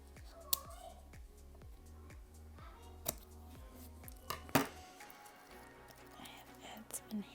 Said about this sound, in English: Grab some scissors.